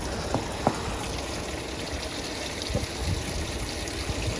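Water from a hose spills over a tortoise's water dish outdoors, a steady soft trickling and splashing with a few faint knocks, quiet and continuous.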